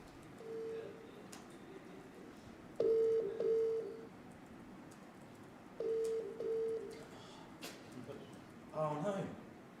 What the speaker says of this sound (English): So, I'm going to call my number, and then I'm going to hopefully put it on speakerphone.